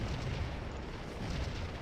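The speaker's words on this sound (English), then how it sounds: "Let's stop and let's open up on all of those cannon." Cannon artillery fire in the Civil War battle game Scourge of War merges into a dense, continuous rumbling roar with no separate blasts standing out.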